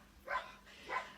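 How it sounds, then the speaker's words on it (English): A dog barks twice in the background, faint and somewhat distant, with a short pause between the two muffled woofs. "Excuse my dog in the background barking,"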